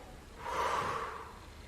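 A single slow, breathy exhale during a gym ball exercise, close and soft, swelling then fading with no talking.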